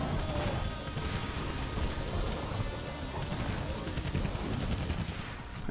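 Nail gun fire in a zombie shooter game, a dense, continuous rattle of rapid shots and impacts heard up close and loud throughout, with no talk.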